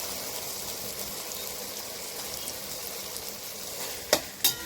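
Potatoes frying with masala in a pan give off a soft, continuous sizzle. Two sharp clinks of a utensil land near the end.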